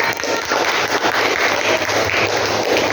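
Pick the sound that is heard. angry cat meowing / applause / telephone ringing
applause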